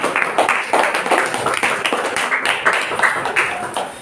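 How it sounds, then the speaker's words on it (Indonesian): A classroom audience claps for a presenting student group, dense close hand claps that swell and fade in uneven bursts over about four seconds. "berikan tepuk tangan lagi."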